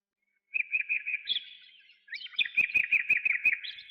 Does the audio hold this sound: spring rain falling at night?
no